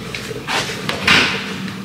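Drawers in an apartment room slide open and shut: a few brief wooden scrapes and knocks, close and fairly loud, with a sharper bump near the end and no talking.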